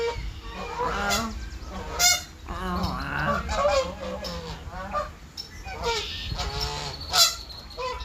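Geese honk repeatedly outdoors, loud close calls in clusters with sharp peaks, over steady background noise with faint voices in between.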